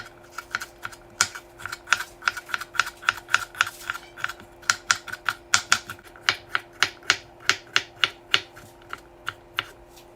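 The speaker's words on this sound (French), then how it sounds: "Je coupe mon demi-poivron en petits cubes." A knife dices half a bell pepper into small cubes on a cutting board, giving a fast, steady run of sharp, close chopping taps with no speech.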